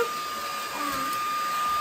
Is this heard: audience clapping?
no